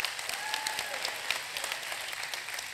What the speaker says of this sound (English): You should be clapping for her.